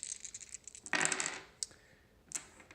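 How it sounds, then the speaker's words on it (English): Four dice tumbling onto a table in a tabletop pirate game, a quick run of light plastic clicks and rattles, then a louder clatter and a couple of scattered final taps; no voices. "they're going to be rolling 4 dice, shooting for a 4 or below"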